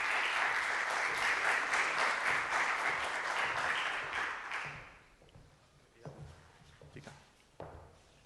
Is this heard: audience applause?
yes